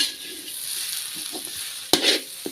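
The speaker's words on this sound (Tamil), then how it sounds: "மசாலாவெல்லாம் நல்லா எண்ணெயிலே நல்லா வறுபட்டுடுச்சு" Masala spices frying in oil for chicken fry, a steady soft sizzle with light stirring scrapes and a sharper clatter near the end, close by with no talk.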